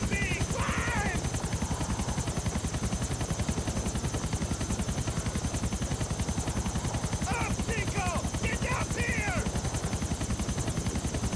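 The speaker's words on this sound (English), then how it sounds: "Jumping into the chopper." Helicopter in Grand Theft Auto, a loud, steady rapid rotor chop throbbing continuously throughout, with brief chirping game effects and bursts over it and no clear talk.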